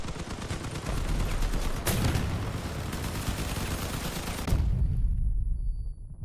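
A vehicle-mounted cannon in the vehicle combat game Crossout fires in rapid, continuous bursts, making a loud, dense rattle of shots that sharpens at two points, then cuts off abruptly near the end.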